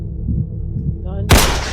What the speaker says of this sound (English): He shot Roger.